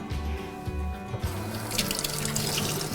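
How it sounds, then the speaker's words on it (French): Tap water runs steadily into a kitchen sink as two sprigs of basil are rinsed clean, a continuous close splashing hiss with small shifts in tone as the leaves pass under the stream. "Vous les rincez bien sous l'eau claire."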